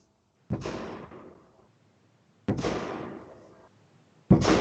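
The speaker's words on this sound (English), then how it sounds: "And someone is having fireworks here." Fireworks go off outside in three separate booming bursts about two seconds apart, each a sharp loud crack that rumbles and fades, with no talk over them.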